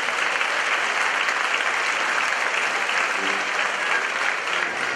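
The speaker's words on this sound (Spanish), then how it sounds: "Muchas gracias a todos ustedes por su comportamiento y sus aplausos." Audience applause at a choir gathering, the Concentración de Coros de la Ribera: steady, dense clapping from a large crowd, sustained at even loudness throughout with no pauses.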